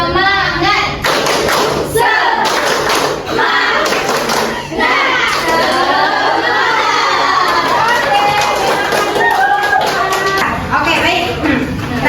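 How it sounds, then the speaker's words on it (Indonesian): A group of students in a counseling management class performs a rhythmic 'tepuk semangat' spirit clap, loud, close bursts of claps mixed with shouting and cheering voices throughout. "mari kita bersama-sama tepuk semangat kawan-kawan"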